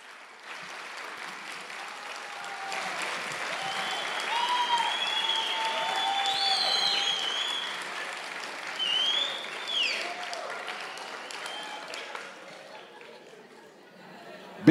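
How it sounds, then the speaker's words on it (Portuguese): Audience applause at a stage hypnosis show, a broad sustained clapping that swells in the middle and fades toward the end, with crowd chatter and cheering voices mixed in. "uma salva de palmas para os nossos astros"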